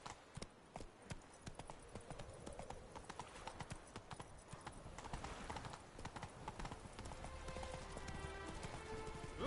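Roach, the horse from The Witcher 3, trots with brisk, regular clip-clop hoofbeats on firm ground, and a steadier rumble of movement builds toward the end.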